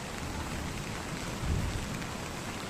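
Heavy rain falls in a sudden downpour, a steady dense hiss of drops on surfaces with a brief low rumble swelling near the middle, no voices.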